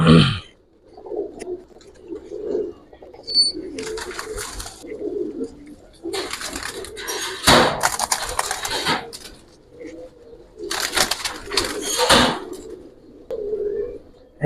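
Giribaz pigeons in a loft, soft repeated cooing calls close by, interrupted by several sharp bursts of wing flapping or scuffling, with no talking.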